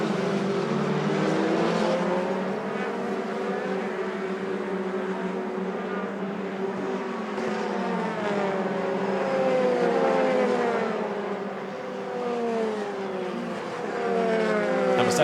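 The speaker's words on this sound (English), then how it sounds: "the cars now accelerate their way down again to Bruxelles" Race cars at Spa-Francorchamps accelerate down toward Bruxelles, a loud, continuous high-revving engine roar with rising and falling pitch sweeps as several cars pass and shift up through the gears.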